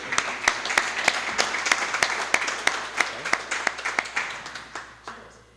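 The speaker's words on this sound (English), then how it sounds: "let's give another huge round of applause for Jonathan and Karthik" Applause from a lecture-hall audience at the close of a blockchain lecture series, a steady run of claps with a few sharp louder ones standing out, gradually thinning and fading toward the end.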